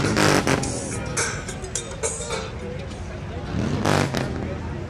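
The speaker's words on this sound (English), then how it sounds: "So we got there, the early 60 Chrysler coming in." An early 1960s Chrysler rolls into a car cruise gathering, its engine and tyres rising and falling nearby amid crowd murmur and other passing vehicles, with people talking over it.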